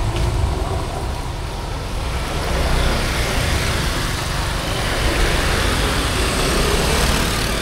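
A motorcycle ridden along a road, with a steady rumbling engine and road noise held close and loud throughout, no talking.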